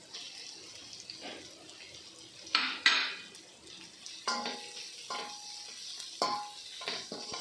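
Onions sauté in a pan for veg noodles with a soft sizzle, broken by scraping stirs and a few sharp clinks of a utensil against metal, close by.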